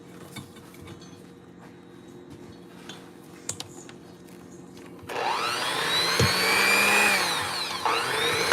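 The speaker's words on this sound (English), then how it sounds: "I'll plug in the mixer." An electric baking mixer starts up about halfway through, after a quiet kitchen stretch with faint clinks. It then keeps up a loud, steady whirring drone until the end.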